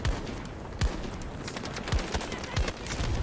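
Gunfire in Battlefield 2042 during a sandstorm: several sharp, loud shots at irregular spacing over a dense, hissing wind-like background, with no talk.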